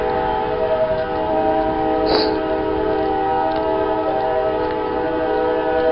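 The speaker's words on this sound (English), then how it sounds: "You hear that with that train right now." A train rumbles steadily nearby, its sustained horn tones layered over the noise, with a brief higher whistle-like blast partway through.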